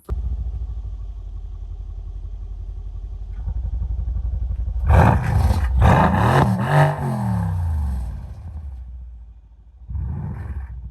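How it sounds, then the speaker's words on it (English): A Mercedes C63s AMG (W205) with an active performance exhaust idles with a steady rumble, then bursts into several loud, close revs that roar and crackle before settling back, ending with one more short blip. "we're going to show you some revving clips"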